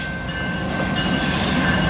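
A CN freight train (115) with locomotives 2310 and 2117 rolls along the Halton Subdivision, a continuous loud rumble and rush of wheels on rail with a thin steady whine, no talk.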